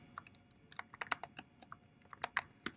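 Someone types an AWS DynamoDB command on a computer keyboard, a quick irregular patter of close, crisp key clicks with brief pauses, no voices.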